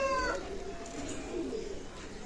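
A pair of Pakistani Teddy pigeons of Oman blood line coo in short, low, murmuring phrases near the start, then fade into a soft, steady background hum.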